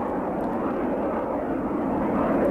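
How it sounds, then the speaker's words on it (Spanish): F-117A Nighthawk stealth aircraft in flight, heard as a steady, fairly loud, continuous jet roar that holds an even level from start to finish, with no voices. "Muchos de esos ataques contra Bagdad fueron causados por decenas de pequeños aviones negros y angulosos que volaban sin ser detectados en la oscuridad."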